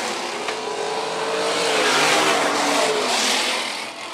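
Sprint car engines roar around the dirt oval at Phillips County Raceway during the feature race, a loud, continuous snarl that swells to a peak as cars pass, then eases off.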